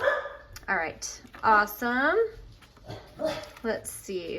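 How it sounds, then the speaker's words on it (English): A dog close by lets out high, wavering whimpers and short yips in quick bursts, set against a person talking in a room used for junk journal paper crafting. "That's my dog."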